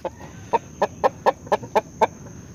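A large fighting rooster makes a steady series of about nine clucks at an even, rhythmic pace, close and clear over a faint outdoor backdrop of a backyard poultry pen.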